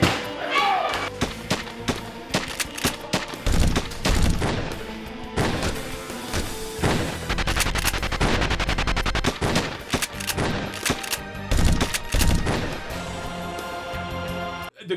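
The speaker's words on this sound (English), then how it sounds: "The machine gun in particular that the old man has is like rat-a-tat-a-tat-a-tat-a-tat." Cheap movie machine-gun effects crackle in rapid, dense bursts with thumps and scattered single shots, loud and near, mixed with other soundtrack noise throughout.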